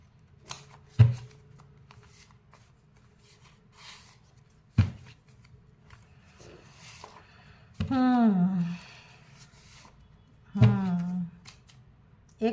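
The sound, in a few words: shuffling and drawing tarot cards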